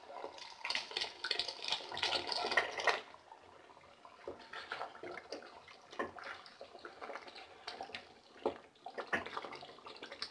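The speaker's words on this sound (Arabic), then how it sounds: "انا غليت مية زي ما قلت لكم، وهنزل كده واحدة واحدة بكوباية" Boiled water poured gradually from a cup into a thick sauce, coming in short splashing bursts with pauses between pours, fairly quiet and close.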